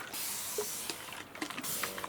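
A steady hissing spray runs throughout, close and continuous, while spraying a resin craft piece, with faint clicks and small knocks scattered underneath.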